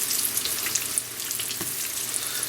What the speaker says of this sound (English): Load your pan, okay? Because you don't want to get your oil too hot. Get you another batch going,